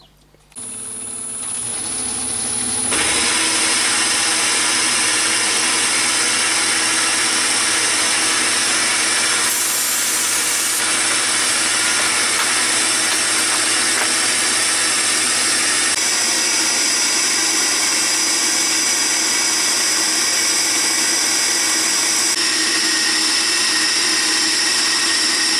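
Myford lathe turning a 16mm stainless steel bar held by a live centre, a loud continuous machining whine and hiss that starts after a brief quiet and holds steady throughout with no speech.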